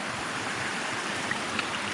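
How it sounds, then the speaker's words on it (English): A small waterfall on a stream in a pine forest, rushing as a steady, even wash of water, moderately close and with no voices. "Little waterfall up there."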